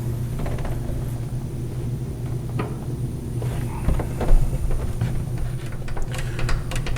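A door striker bolt plate is snugged on a Can-Am Defender side-by-side fitted with ArmorTech doors. Close, faint metallic clicks and small ratcheting taps sound over a low steady hum, with no talking.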